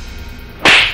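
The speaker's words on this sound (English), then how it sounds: "you slapped me" A slap across someone's face in a dramatic scene: a single sharp, loud crack lands abruptly near the end after a quiet lead-in, with no talk over it.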